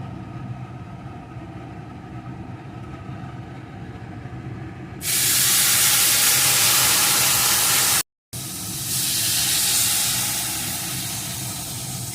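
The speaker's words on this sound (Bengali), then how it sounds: "এখন এর ভিতরে আমি যে দুধটা জাল করে রেখেছিলাম সেই দুধটাকে দিয়ে দেবো" Boiled milk is poured onto well-fried semolina in a hot pan for caramel suji barfi, bursting into a loud, bright steamy hiss that starts suddenly, cuts out briefly, then resumes and slowly eases.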